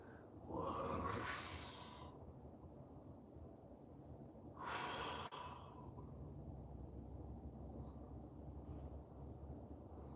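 After a set of exercise reps, a person takes slow, deep breaths, with two long, loud exhalations several seconds apart over quiet, steady background hiss.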